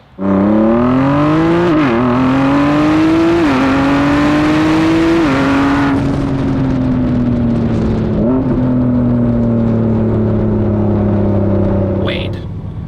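A 2024 Ford GT sports car drives, its loud engine droning from inside the car, rising in pitch through several gear pulls and then dropping back before easing off near the end.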